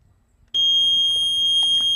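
After a brief quiet moment, a high electronic tone from an 802.15.4 wireless buzzer starts abruptly and holds steady and loud, with faint background rustling.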